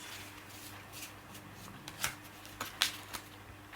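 Tarot cards shuffled close up, soft riffling with several quick sharper flicks, quiet against a faint hum.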